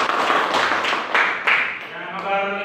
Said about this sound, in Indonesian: Beri tepuk tangan lagi.